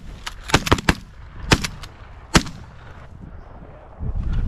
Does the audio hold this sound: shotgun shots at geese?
yes